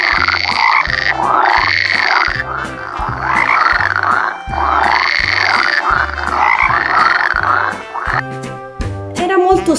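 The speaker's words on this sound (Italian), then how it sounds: "Bravi! Era proprio della rana!" A frog croaks in a steady, repeating rhythm, loud and close, over a jaunty musical backing with no talking.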